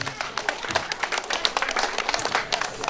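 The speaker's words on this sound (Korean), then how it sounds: "박수 한번 주세요 우리 과장님" An audience of elderly residents claps at a nursing-home entertainment event with trot music and janggu drumming. Close, brisk applause runs steadily for about three seconds, with scattered voices mixed in.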